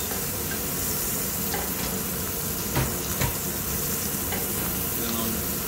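Sirloin steak sears in a hot pan, a loud, dense sizzle filling the whole stretch, with a couple of sharper spits and pops midway as the meat is turned and pressed into its drippings.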